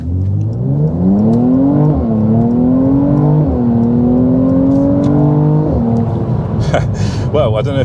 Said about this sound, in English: we're just going to floor it and go for it.